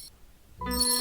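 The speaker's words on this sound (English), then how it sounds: "I heard something like a bell ring continuously." A bell rings continuously inside a visual novel game, a bright sustained ringing tone swelling in after a brief quiet moment and holding steady and fairly loud to the end.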